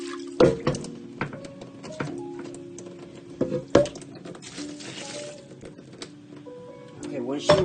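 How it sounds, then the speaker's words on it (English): Water splashes and sloshes while a greasy pot used for cooking chitterlings is rinsed in a kitchen, with irregular wet clunks and drips under a woman's speech close to the microphone. "I'm going to rinse this pot out because you don't want all that sticky grease to get in there"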